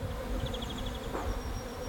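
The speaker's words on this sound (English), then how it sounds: "there's like an army of bees just around this area" Close, persistent buzzing of bees or wasps, several insects droning and whining past at once with no talking.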